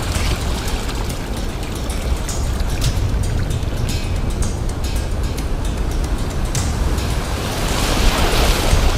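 Ocean waves washing up on a sandy beach where ghost shrimp are dug for fishing bait, a continuous broad rushing wash of surf with wind buffeting the microphone and no talking.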